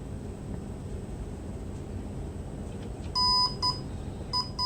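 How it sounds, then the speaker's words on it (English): A steady low hum fills the background, then a few short electronic beeps chirp in quick bursts near the end from a faulty Carrera Digital slot car control unit as voltage is raised. "I just started getting random beeping coming out of the control unit."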